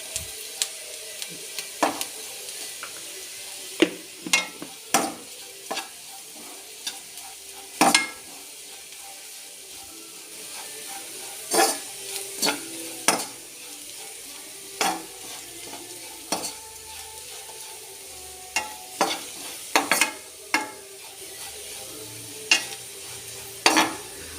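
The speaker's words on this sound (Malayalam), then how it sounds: "നന്നായിട്ട് ഒന്ന് ഇളക്കി കൊടുത്ത് നമ്മുടെ മുളക് പൊടിയുടെ പച്ചമണം മാറുന്നിടം വരെ നന്നായിട്ടൊന്ന് ഇളക്കി കൊടുത്ത്" Onions fry in a pan with chili powder, sizzling steadily while a spoon scrapes and taps against the pan in irregular stirring strokes, close and fairly quiet.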